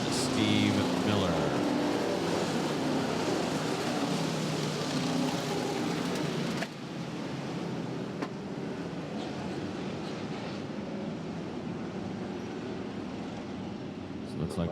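Modified race cars circle the East Bay Winter Nationals track in a 75-lap main, a dense continuous roar of many engines from mid-distance, with an announcer speaking over the noise.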